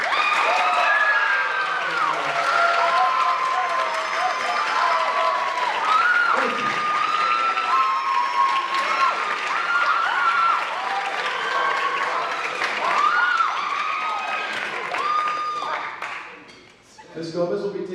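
Applause and some cheering from a concert audience for a high school percussion director. The loud, sustained crowd clapping runs under overlapping voices and chatter, then dips briefly near the end.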